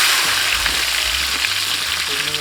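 Ginger and garlic fry in hot oil for a Kerala-style chicken perattu, a loud, steady sizzle and crackle close up with no break.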